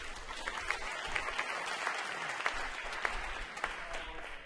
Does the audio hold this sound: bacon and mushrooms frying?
no